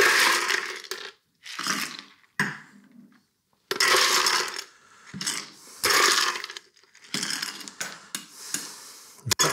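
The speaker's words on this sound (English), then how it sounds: "Now we'll top it up with ice" Ice is added to a glass holding a ginger beer cocktail, making repeated loud, close bursts of rattling, clinking cubes with short quiet gaps between scoops, and no talking.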